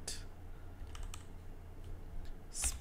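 A command is typed on a computer keyboard, giving soft, sparse key clicks over a low steady hum, with a slightly louder keystroke near the end.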